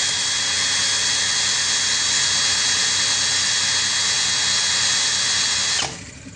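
A Dongcheng 2040i power tool runs steadily at speed setting 2, a loud, even high-pitched whine held for about six seconds before it abruptly drops off near the end.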